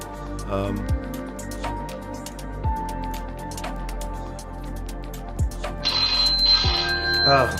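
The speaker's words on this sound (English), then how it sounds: "So I got Jacob ringing now" Phone ringing with a repeating ringtone pattern, moderately loud and close, continuing throughout with a brief higher tone near the end and faint background sounds.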